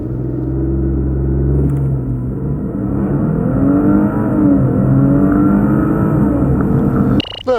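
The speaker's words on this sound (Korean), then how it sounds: "여기서 잠시 르반떼 SQ4의 가속 성능에 대해서도 알아볼까요?" A 2018 Maserati Levante SQ4 SUV accelerates hard in a performance run, its engine roaring loudly with a rising, sweeping pitch between shifts. The sound ends with an abrupt clatter.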